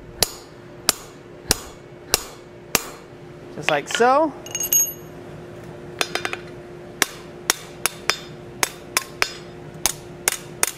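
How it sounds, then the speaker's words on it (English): Sharp hammer blows drive a punch into hot steel at a blacksmith's forge, about twenty evenly spaced metallic strikes with a short squealing scrape and a brief burst of quick taps midway, loud and close, with a voice speaking briefly. "we're going to drive our punch down to the surface, but that's where we're going to stop it"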